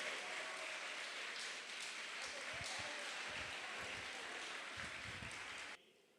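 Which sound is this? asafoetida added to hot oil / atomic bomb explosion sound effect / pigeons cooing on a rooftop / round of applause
round of applause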